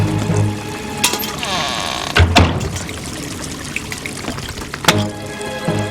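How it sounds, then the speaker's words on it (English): Flood water being bailed out with a bucket in a Fireman Sam cartoon, with splashy pouring and trickling bursts, a couple of sharper sloshes near the middle and end, and continuous water noise between them. "I can use that bucket to bail out the water!"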